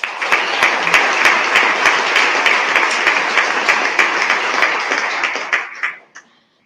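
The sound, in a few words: audience applause at board meeting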